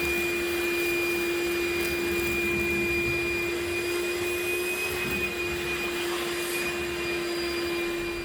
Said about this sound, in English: I'm using heavy grit sandpaper and my gun. And as I blow it, I'm scraping it with the sandpaper.